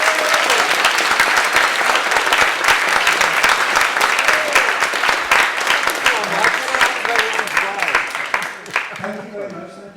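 Loud, sustained audience applause fills a Skeptics in the Pub talk venue as a guest is welcomed, dense clapping throughout before tapering at the end, with a few voices mixed in.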